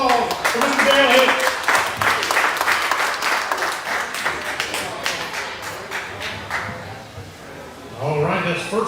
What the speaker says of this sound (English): Everybody give me a round of applause for Mr. Deville.